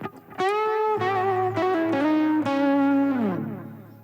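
Electric guitar lead solo played through delay with an added sustain tail, sustained bending notes ringing out with a lingering echo that fades away at the end; no talking.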